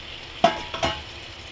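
Chana dal and bottle gourd tipped into hot frying masala, two quick splashing pours each bursting into a brief sizzle, then a low simmering hiss.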